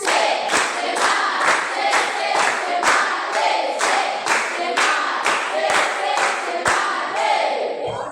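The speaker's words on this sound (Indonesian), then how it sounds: "Tiga kali tepuk semangat." A group claps in unison, sharp regular claps repeating in a steady rhythm, with some voices chanting along in the room.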